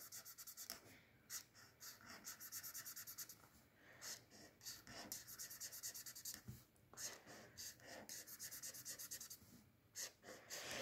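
Pencil or marker colouring in a pixel-art Minecraft diamond axe on a large sheet of paper, with steady scratchy strokes in rapid bursts and brief pauses, close and fairly quiet.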